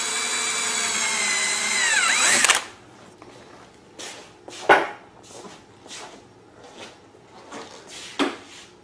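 A power drill with a quarter-inch bit runs loud and steady with a rising whine for about two and a half seconds, then stops; scattered knocks and handling clunks follow, with no talk.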